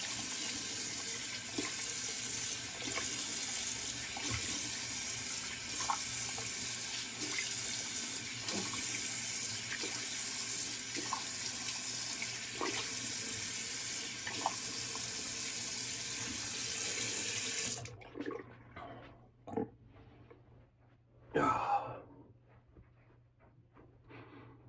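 Cold tap water runs steadily into a sink for about eighteen seconds during a wet shave, a continuous close hiss with small splashes, then shuts off, leaving brief drips and a few handling noises.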